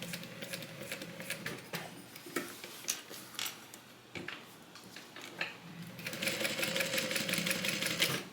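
A sewing machine stitches a zipper onto a Soraya divider bag, running in short, rapid bursts of stitching, then settling into a steady, loud run near the end. No voices are heard.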